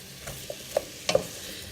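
Vegan pasta noodles coated in olive oil being stirred in a pot with a utensil, a few soft scraping and clinking touches against a quiet background, with no voices.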